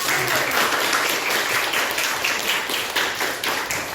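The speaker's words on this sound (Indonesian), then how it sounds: "tepuk tangan dulu untuk kelompok 1" Classroom applause for a student group, a steady wash of many hands clapping throughout at an even level, with no talking over it.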